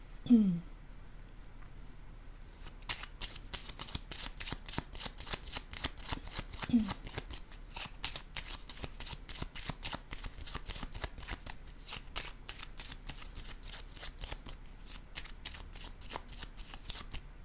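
Tarot cards being shuffled by hand, a long rapid run of crisp riffling clicks after a brief quiet start, close and fairly faint, with a short vocal sound near the beginning.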